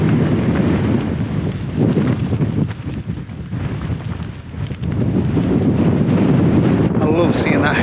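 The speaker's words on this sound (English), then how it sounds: "this wind's going to be a good test for the tent" Strong, gusty wind roars across an exposed hilltop in the North Yorkshire and Cumbria fells during a wild camping trip, buffeting the microphone loudly and continuously with surges and brief lulls.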